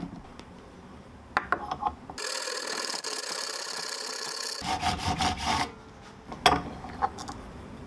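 A handsaw cuts relief slots into a plastic cap, giving a dense steady rasping burst of about two and a half seconds, with shorter scraping strokes before and after.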